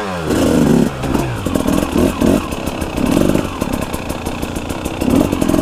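A KTM 300 two-stroke dirt bike engine revving in short throttle bursts while riding through swampy mud and over logs, loud and close with a raspy buzzing tone that rises and falls.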